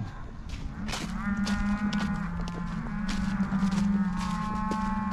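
Cows on a pasture moo in long, low, drawn-out calls, several overlapping and close by, with a rumbling background.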